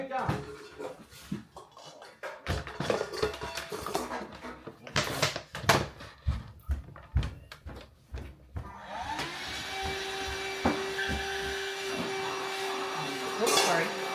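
A handheld Dust Buster vacuum runs in a home kitchen, switching on after a stretch of clattering and bumping, then holding a steady, fairly loud whirring drone with a faint whine for several seconds.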